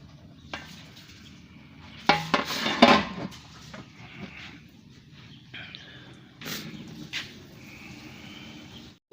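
A metal spoon scrapes and clinks inside a saucepan as sugar melts for coconut caramel, with a few louder knocks and stirring scrapes against a quiet kitchen background.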